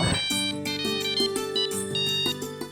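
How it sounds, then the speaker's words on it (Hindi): Mobile phone ringtone for an incoming call plays a bright repeating electronic melody of short tones, loud and close, with no voices. "किसका कॉल है? माता जी का फोन है।"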